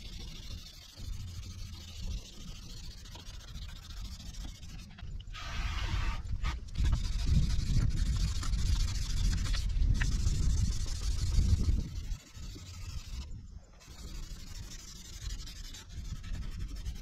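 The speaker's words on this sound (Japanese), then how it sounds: "これが白くなるまで縦縦横横斜め斜めの磨きを3回ぐらい繰り返します" A yellowed surface is hand-polished in repeated vertical, horizontal and diagonal strokes, making a steady close rubbing and scrubbing noise that swells louder in the middle passage and carries on almost without a break.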